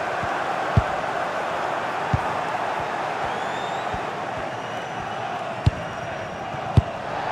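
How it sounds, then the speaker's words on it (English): A FIFA video game stadium crowd, a steady wide roar of cheering filling the background with a few soft thuds, a commentator's voice over it. "The crowd certainly think so. Just listen to them."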